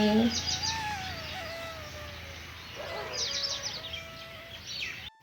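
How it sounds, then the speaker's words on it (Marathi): Small birds flying outdoors at sunrise give thin, high chirps and twittering in scattered bursts, faint and somewhat distant over quiet background. "बघा किती बारीक बारीक पक्षी उडत आहे अगदी छोटे छोटेसे"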